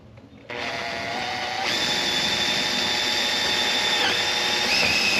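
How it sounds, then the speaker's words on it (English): A power drill whirs steadily at high speed, close and loud, its pitch shifting slightly as it bores through material. "now I gotta drill holes back through this"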